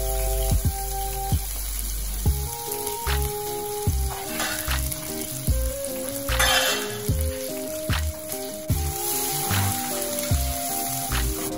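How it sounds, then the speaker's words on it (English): Sliced onions fry in hot vegetable oil with a steady, close sizzle and crackle that runs throughout, under light background music. "I put in my vegetable oil, and once it's hot, I put in some onions."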